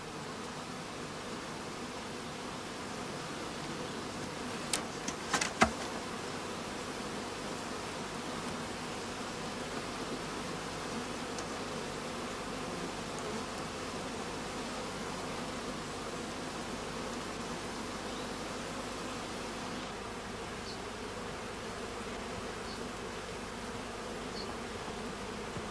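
Honey bees hum in a dense, continuous drone inside a packed hive, with a few sharp clicks early on and no talk.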